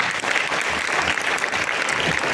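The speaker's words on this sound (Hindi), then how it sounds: "जोरदार तालियां" Loud, dense applause from a large crowd at a women's honour ceremony in Shimla, continuous and full throughout, with no breaks.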